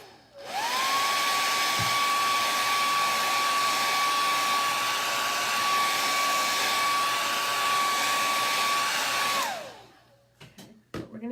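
A hair dryer drying paint on a sign board, spinning up and holding a loud, steady whirring roar for about nine seconds before winding down, followed by a few faint clicks.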